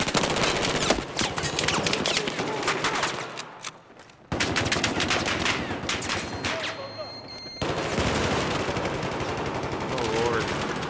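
Machine-gun and rifle fire in the Battlefield V reveal trailer, rapid rattling bursts that come in loud close volleys and break off in sudden cuts, with voices heard alongside the shooting.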